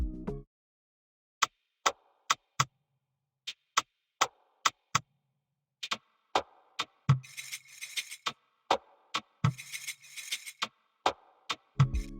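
A sparse percussion loop pitched down an octave in FL Studio: dry, clicky ticks and knocks spaced at an even pulse, with short rattling flurries and a low thud or two later on, all at low volume.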